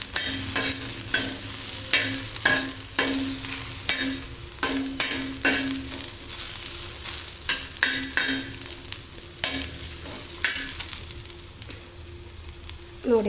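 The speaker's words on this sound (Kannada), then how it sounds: "ಸ್ವಲ್ಪ ಕೆಂಪಗೆ ಆಗೋವರೆಗೂ ಸ್ವಲ್ಪ ಹುರ್ಕೋಬೇಕು" Food fries in oil in a pan with a soft constant sizzle, punctuated by repeated sharp scraping strokes of a utensil stirring it, close and fairly quiet, with no speech.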